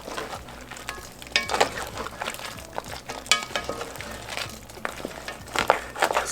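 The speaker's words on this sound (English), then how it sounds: "Stir in the noodles. And stir it all in there." Noodles being stirred into a crab and shrimp scampi sauce in a pan, with steady sizzling and irregular wet sloshing, scraping stir strokes, close and moderately loud.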